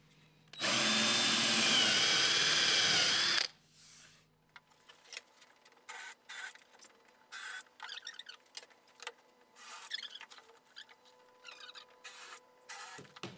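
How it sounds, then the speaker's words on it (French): A power drill bores a dowel hole into a furniture panel in one steady loud whir lasting about three seconds, then stops, followed by scattered knocks and handling sounds. "Forez votre premier trou pour les chevilles."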